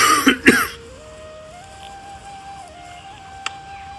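A man suffering from a cold gives two quick, harsh coughs at the very start, then the room falls quiet apart from a faint steady hum.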